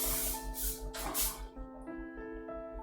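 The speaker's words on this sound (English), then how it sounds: "after I use this canola cooking oil spray, I feel like I can do anything" Canola cooking oil sprays from a can in a few close hissing bursts while making pudding, then stops, leaving a faint background tone.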